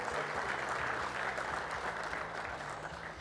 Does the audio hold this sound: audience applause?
yes